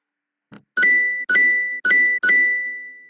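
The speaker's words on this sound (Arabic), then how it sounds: "هاي عمل صوت للجيم اوفر، مش عارفة إذا انتوا سامعينه" A game over sound effect in a programmed video game: a faint short blip, then four bright chiming electronic tones in a steady sequence, each ringing briefly before the next, with no talking.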